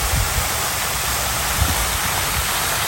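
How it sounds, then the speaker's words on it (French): A water fountain jet splashes outdoors as a steady, loud rush of broadband hiss, close and unbroken, with no voices. "Je la trouve trop belle, enfin, le jet d'eau"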